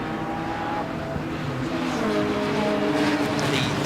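Saloon race cars, including an orange BMW in a 330i class, lap a circuit in a Libra Saloons race, with a steady loud engine roar and cars passing close throughout, no talk.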